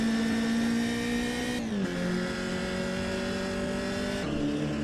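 A race car laps Cadwell Park circuit, its engine droning as a steady harmonic whine that drops sharply with two gear changes and then climbs again, loud and close with no voices.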